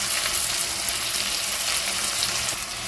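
Chopped tomato, green chillies, garlic paste and ginger paste frying with onions in hot oil for a brinjal and egg dish, a steady close sizzle with light stirring, no voices.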